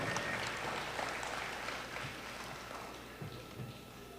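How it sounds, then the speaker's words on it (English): Sustained applause from a large audience at a university graduation ceremony, steady and dense, heard from a distance in a reverberant hall and fading slightly toward the end. "Let's give him another round of applause."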